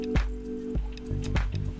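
Water is poured over ground coffee in a V60 dripper, giving soft wet splashes and drips at an uneven rhythm, close and moderately loud, with a faint steady tone underneath.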